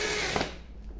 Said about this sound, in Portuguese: Agora eu vou colocar o parafuso.